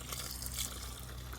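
Water pours into a slow-release tree watering bag in a home garden, a soft steady splashing trickle that stays faint and even throughout with no voices.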